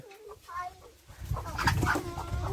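A chicken clucks close by at a rural morning feeding, with a few short calls at first and then louder, noisier clucking over busy background sound.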